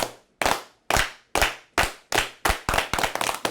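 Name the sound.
people clapping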